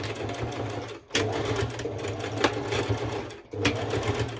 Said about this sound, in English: a straight stitch back and forth, and you've probably noticed that it went off immediately once you start sewing